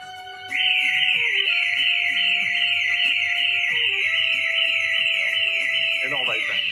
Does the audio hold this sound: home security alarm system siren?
yes